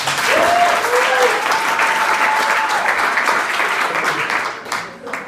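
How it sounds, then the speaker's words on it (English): Audience applause welcoming a speaker onto a TEDx stage, loud, sustained and dense from the start, easing slightly before fading out after about five seconds. "Please give him a warm applause."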